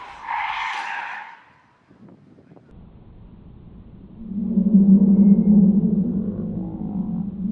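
A 2023 Ford Focus's tires squeal loudly for about a second on a test track during a moose-test evasive maneuver, followed by a quieter lull and then a steady engine drone with wind noise.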